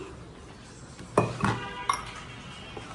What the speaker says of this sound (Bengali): লুচিগুলো ঢাকনা দিয়ে রাখি